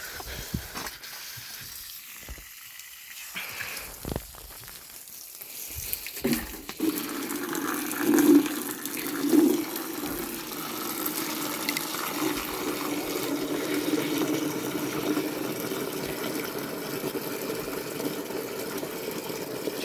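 Water from a garden hose runs steadily as a broad, continuous rush at a farmstead while rabbits and poultry are checked in the evening. It swells after a few quiet seconds and keeps flowing without talk.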